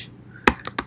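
Several crisp taps on a computer keyboard while an essay is typed in Google Docs, starting with one sharp keystroke and followed by three lighter, spaced clicks, close and alone.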